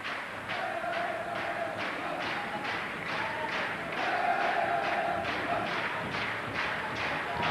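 Swedish spectators at a 2003 Malmö tennis quarterfinal cheer and roar steadily, a dense, continuous crowd noise with rhythmic pulses like clapping or thumping, swelling slightly louder midway.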